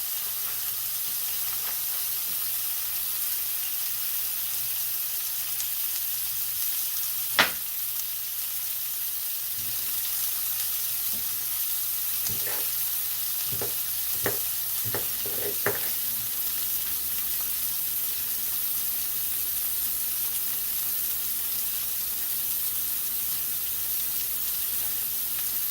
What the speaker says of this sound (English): Let me go ahead and flip this steak with my old traditional flip-flop.